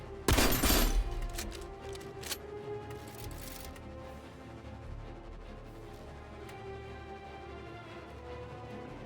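A sharp loud burst of gunfire in the game Aether & Iron at the start, followed by a few fainter shots over a steady humming game backdrop, no talk.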